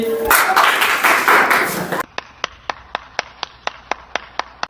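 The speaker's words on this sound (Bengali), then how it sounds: "তাহলে আমরা সবাই ইসেদের জন্য একটা করতালি" Students in a classroom physics practical give a loud, dense burst of applause for about two seconds, then fall into a run of evenly spaced single claps in unison that fade toward the end.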